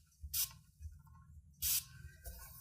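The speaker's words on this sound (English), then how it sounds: "you're going to spray a couple of spritzes" Two short, hissing spritzes from a spray bottle of Squeaky Clean brush cleaner into a scrubber pad at a rubber-stamping craft table, close and crisp, separated by a quiet pause.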